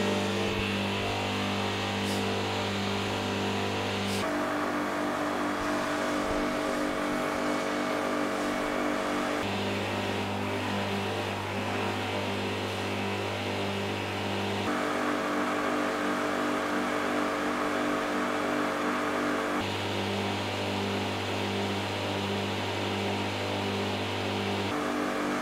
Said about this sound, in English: One additional thing we will now have a look at is if one of those high pressure washers is louder or more silent than the other.